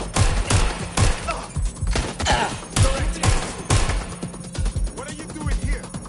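Rapid gunfire in the video game Watch Dogs Legion, repeated loud shots and bursts in uneven rhythm, mixed with voices talking.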